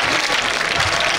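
Church congregation bursts into applause and cheering, a brief, loud, dense wash of clapping and voices filling the space.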